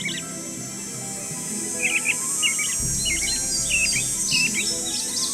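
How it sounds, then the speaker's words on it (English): A blue jay call from a Nancy Drew video game, repeated short chirpy calls over a steady buzzing insect-like ambient bed with a low hum, moderately loud and without talk. "Blue jay."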